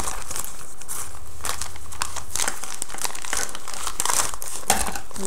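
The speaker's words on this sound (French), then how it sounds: "on va prendre le ciseau, ça va aller plus vite" Plastic packaging for a silicone tyre-pattern iPod Touch 4G case being cut open with broken scissors, giving steady close crinkling and crackling with irregular snips and rustles throughout, no voices.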